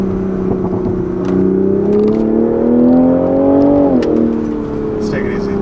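A 2020 Toyota GR Supra accelerates hard in third gear while its tires lose traction, the engine note climbing steadily and loudly, then dipping sharply as it shifts or settles, heard from close inside the car.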